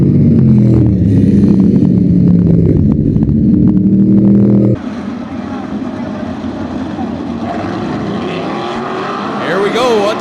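Several 305 sprint cars race around the dirt oval at Attica Raceway Park, engines roaring loudly and steadily, then dropping to a quieter, more distant drone under trackside commentary.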